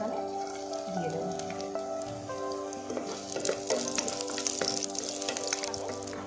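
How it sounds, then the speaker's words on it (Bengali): Chopped garlic sizzles and crackles steadily in a little hot oil, with occasional scraping stirs, close and fairly loud throughout. "এরপর এতে আমি রসুন কুচি রেখেছি, এই রসুন কুচিগুলো এটাতে আমি দিয়ে দেবো।"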